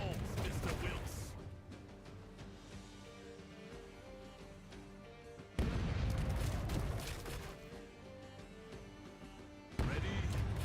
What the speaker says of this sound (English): all crews, fire at will. Reload. Strictly now. Fire.